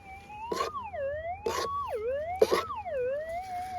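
A metal detector passed over a dirt clump holding a small bit of gold gives a wavering, rising and falling electronic tone that swoops up and down several times, with three short scraping or knocking bursts in between.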